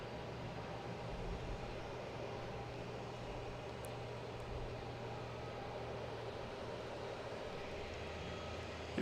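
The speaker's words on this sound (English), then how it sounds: "Here we go, Aer Lingus coming in from Shannon." An Aer Lingus airliner arriving from Shannon at Boston's Logan Airport, its engine noise a faint, steady broadband rumble and hiss that holds evenly throughout with no voices.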